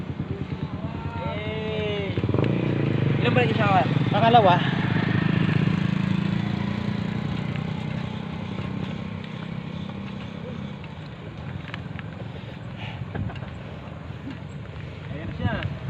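An enduro motorcycle engine revving and riding, a sustained droning rumble that swells and fades, heard under people shouting and talking nearby.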